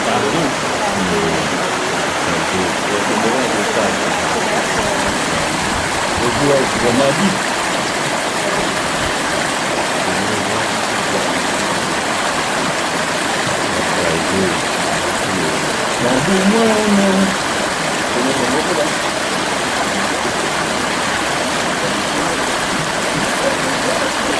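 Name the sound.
stream with small waterfalls in a gorge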